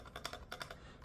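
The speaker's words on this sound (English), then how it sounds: "This is stock stabilizers. I didn't lube it. As you can hear, rattly." On an Ilovebee i61 gaming keyboard with stock, unlubed stabilizers, keys are struck in a quick burst of about six clacks, close and fairly faint, each with a slightly rattly edge.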